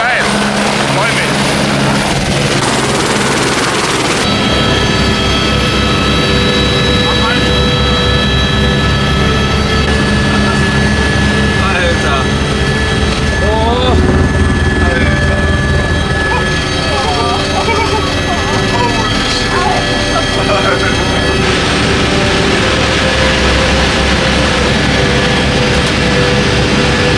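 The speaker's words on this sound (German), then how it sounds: "wir sind jetzt hier am Heliport und haben uns eine Runde Heli-Rundflug rausgelassen" A helicopter on a sightseeing flight over the Erzberg iron-ore mountain in Austria, its rotor and turbine droning loud and steady throughout from inside the cabin, with people talking over it.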